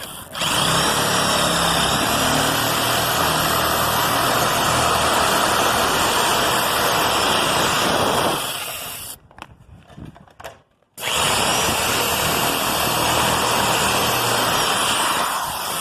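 A power tool rips a standing seam metal roofing panel with a loud, high-pitched whine and grinding, running steadily for about eight seconds before cutting out, then a short pause and the cut resuming.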